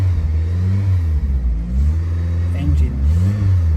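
A 1988 VW Golf GTI engine revs freely, rising and falling in steady, close, loud bursts with a strong low rumble and no talking.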